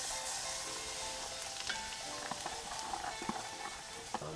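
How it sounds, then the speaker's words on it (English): Peppers, onions and celery sizzle in a dark mahogany gumbo roux, a steady close frying hiss with scattered crackles and a few soft stirring clicks, no voices. "And now I'm going to add the trinity: peppers, onions, and celery."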